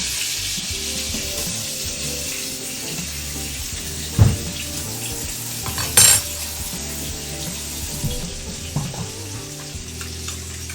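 A thick pork chop searing in a hot pan for oven finishing, a steady close sizzle with occasional clinks and scrapes of utensils, no talking.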